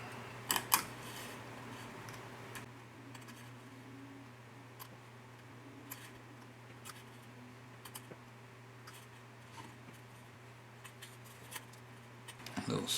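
Small photo-etch part snipped from its fret for a 1/35 Kitty Hawk MH-60J/T Jayhawk model kit: a couple of sharp, faint clicks of a cutter amid quiet room hum, with scattered light taps afterward.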